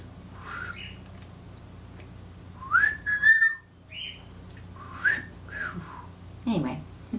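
A pet bird whistles a quirky song in a few short rising and falling phrases, separated by pauses, fairly close and clear against a quiet room hum.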